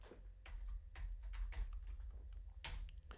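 Computer keyboard typing heard up close and quietly, irregular clicks and taps in short bursts over a low background hum, no voices.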